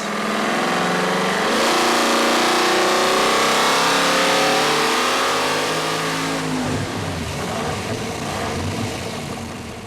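A GM 572 crate engine on nitrous roars through a full dyno pull with timing at 26 degrees, its loud, continuous tone climbing steadily in pitch before easing off near the end.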